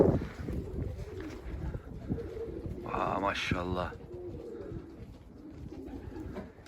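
Gök erkeği tumbler pigeons coo in a short, rolling call close to the microphone outdoors. Steady wind rumbles underneath, and someone speaks briefly.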